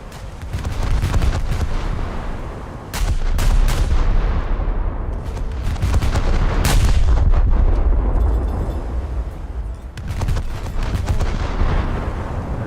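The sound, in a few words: naval guns firing in a World of Warships video game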